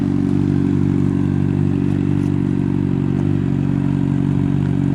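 Honda CBR 600 RR motorcycle engine running steadily at a low, even idle, loud and close with a constant throbbing hum and no speech.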